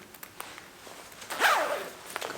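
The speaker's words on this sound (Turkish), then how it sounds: "Fermuarla kapatalım." A zipper on a garment is pulled shut at the waist in one quick, close rasp, with light clothing rustles and small handling clicks around it.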